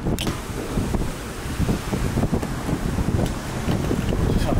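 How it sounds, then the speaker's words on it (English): Strong wind blows across an outdoor microphone in a continuous loud, gusty roar, with no clear voices over it. "it's windy"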